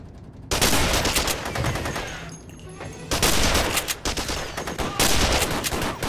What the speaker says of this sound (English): Captain, opening fire!